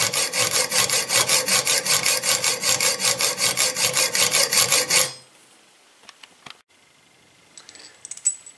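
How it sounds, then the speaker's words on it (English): A junior-size model axle is sawn through by hand with steady, rhythmic back-and-forth rasping strokes, close and loud for about five seconds. Then the sawing stops and faint scattered clicks and taps follow. "And now cut through the axle."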